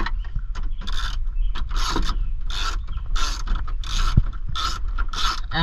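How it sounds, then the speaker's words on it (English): A 7mm ratchet clicks in short repeated bursts while working on the gauge cluster bezel of a Ford F250, the rasping pawl heard close and fairly loud with brief pauses between strokes. "I've got a 7mm ratchet here, which also will be able to take off and reinstall the gauge cluster and the bezel"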